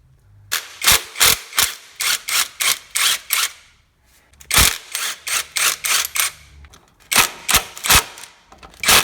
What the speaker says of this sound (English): we're gonna undo these 4 bolts